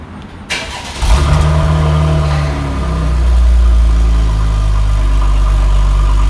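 A 6th-generation Chevrolet Camaro with stock exhaust cold-starts, cranking and firing up, then settling into a loud, deep idle that swells as it revs, close and steady with no talking.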